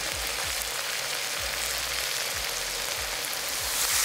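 Curry powder stir-fried in a wok for Cantonese curry chicken: constant close sizzling and crackle, with low rhythmic scraping strokes from the stirring, no voices.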